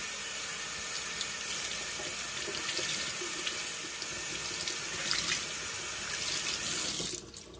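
Cold tap water runs steadily into a sink over luffa sponges being rinsed after a bleach soak, a continuous close splashing hiss that cuts off near the end.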